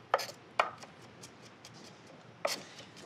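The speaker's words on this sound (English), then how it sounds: "so we're gonna crush our garlic" Garlic cloves crushed on a board while prepping steamed mussels: two sharp, close thumps in quick succession, a pause, then a third firm press, with faint rubbing in between and no talk.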